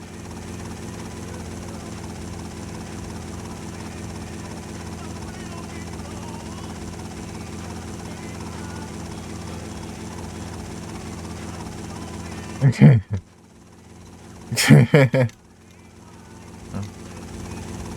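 A helicopter's rotor and engine drone steadily for a long stretch in GTA Vice City Stories on PS2, then loud voices and bursts of sound break in near the end.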